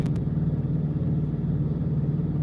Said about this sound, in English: that certainly is an old Prime truck